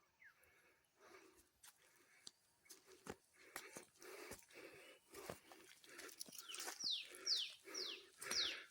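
Birds and pigeons call and chirp in repeated short bursts in a forest in Satkosia Tiger Reserve, with low cooing in between, fairly faint and growing livelier toward the end.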